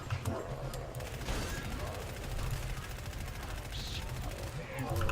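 Rapid gunfire rattles against a shielded enemy in Killing Floor 2, continuous mechanical bursts at moderate level with a voice talking over it.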